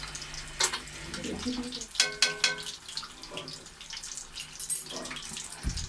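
Fish fried in a pan with home masala over low heat, a steady sizzle and crackle with scattered spatters and a few sharper clinks, close and moderately loud, with no one talking.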